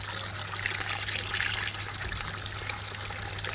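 Water runs into containers in a steady, close trickling gush that fills the whole stretch, with no talk over it.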